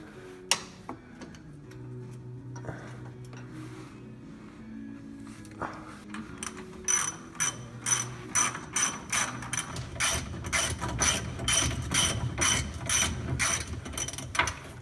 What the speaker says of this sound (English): I'm just going to break these bolts loose that hold the steering box in